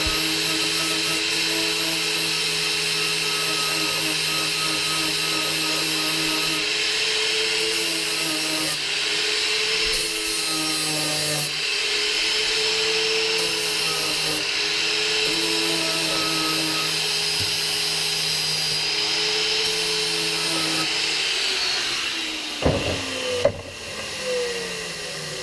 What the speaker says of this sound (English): I'm now cutting up some metal plates to make the receiver type connection for the boom